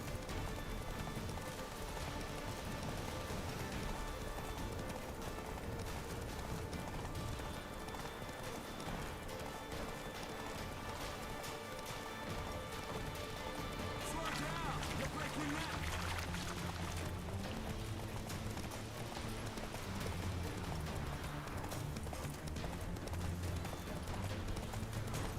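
Horse hooves clip-clop steadily through a gameplay scene in The Witcher 3, a continuous trotting rhythm over a dense background of ambient game sound.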